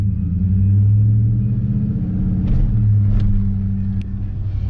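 Duramax diesel pickup truck fitted with a new 5-inch exhaust, driving along with a loud, steady low engine rumble throughout, heard from close by and without talk.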